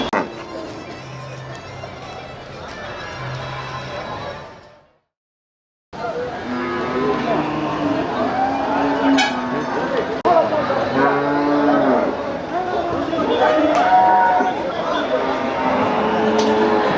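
Cattle at the Melapalayam livestock market moo loudly and repeatedly, close by, amid a busy murmur of crowd chatter, with a brief silent gap partway through.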